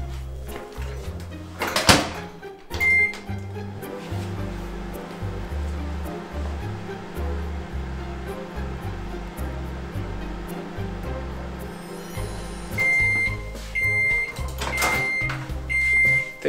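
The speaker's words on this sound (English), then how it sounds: "Now we are going to turn on the microwave for 10 seconds and see the results." A microwave oven runs with a steady low electrical hum and a soft fan drone, broken by a thump early on and a series of short electronic beeps near the end.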